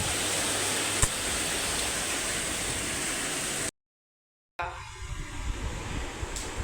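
Loud, dense roar of heavy rain pouring continuously, briefly cutting out before resuming slightly softer.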